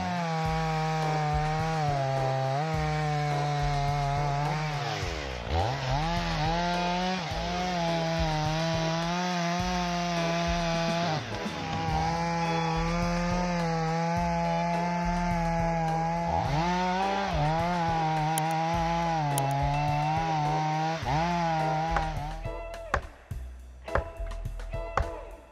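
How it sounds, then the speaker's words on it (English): A big chainsaw roars loudly and continuously up close in a forest, its pitch dipping and climbing as it bogs into a tree, then cutting out with a few clunks at the end. "Listening to the roar of the engine in the forest, we can see the powerful working power of this chainsaw."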